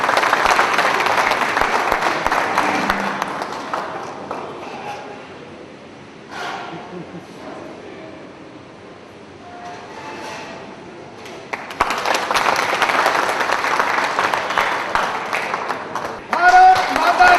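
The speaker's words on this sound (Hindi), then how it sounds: "इन युवा साथियों के लिए आप तालियां।" An audience at a BJP political gathering applauds loudly, with strong bursts of clapping at the start and again near the end and a quieter stretch between them where a voice is heard.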